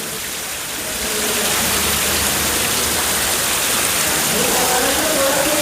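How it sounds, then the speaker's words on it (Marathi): Heavy rain pours steadily outside a Konkan village house during Diwali, a loud, dense broadband hiss that swells after the first second and stays constant. "बाहेर काय पाऊस काय ना थांबूचं नाव नाही घेत आहे"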